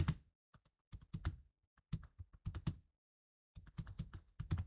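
Someone types on a computer keyboard in quick bursts of crisp key clicks separated by short pauses, close and clear with no talking.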